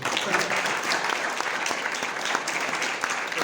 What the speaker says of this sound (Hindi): तालियों का टेक्सचर अब ज़्यादा अच्छा है